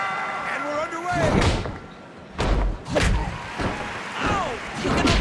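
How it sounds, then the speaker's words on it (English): Several heavy body-slam thuds and slams from the wrestling video game TNA Impact! land in bursts with brief gaps, loud and close, while a voice talks over the impacts. "Listen to the bones breaking."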